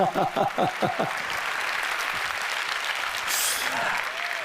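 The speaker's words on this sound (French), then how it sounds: "Applaudissez-le très fort, s'il vous plaît." Dense applause from an audience, steady and sustained after a brief voice at the start, filling the space with continuous clapping.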